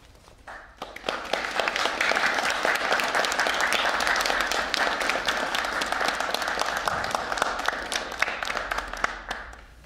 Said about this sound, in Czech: Děkuji vám za potlesk